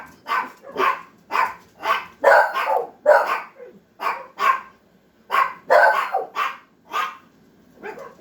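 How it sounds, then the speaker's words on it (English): Several dogs barking outdoors in repeated bursts, about a dozen barks in an uneven rhythm with short gaps, fairly close and loud, with no talking. "there's a dog out there barking."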